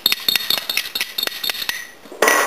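Lentils, garlic, rosemary and oregano get mixed in a casserole pot, with a quick run of bright metallic clinks and scrapes of a utensil against the pot, ending in a brief louder rustle.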